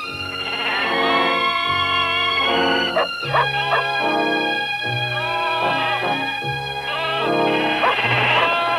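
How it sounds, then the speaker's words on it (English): A dog barks and yips in a series of short, loud, close calls mixed with whimpering whines, irregular in rhythm throughout. "That's my dog."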